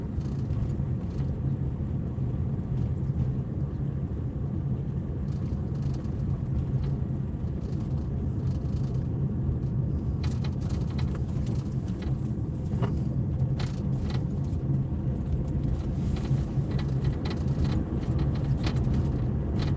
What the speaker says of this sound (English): My old rattle trap, I'm sure you can hear it rattling.